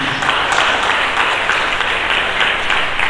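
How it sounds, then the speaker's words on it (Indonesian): A church congregation applauds during a Sunday service, a dense, steady roar of many clapping hands that fills the space evenly without letup. "Berikan tepuk tangan bagi"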